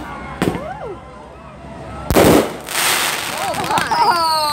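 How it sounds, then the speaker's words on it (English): Fireworks at a 4th of July show on the beach at Virginia Beach in 2020 go off in sharp booming bursts, followed by a sustained crackling and hissing spray, fairly close and loud. "Oh, here comes the fireworks."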